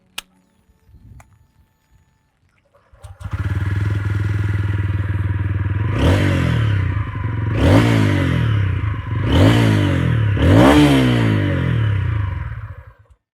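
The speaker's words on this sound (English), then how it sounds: "It's smooth and it produces a nice fruity sound." A 2022 TVS Ronin motorcycle engine fires up and settles into a smooth idle, then is blipped four times in quick succession, each rev rising sharply and falling back before the engine cuts off.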